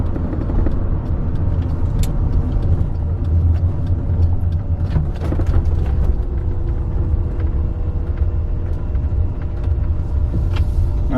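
A 1983 Mercedes 380SL drives and turns around in a post office lot, its engine rumbling steadily close by with road and tire noise and a few small knocks and clicks from the cabin, no voices.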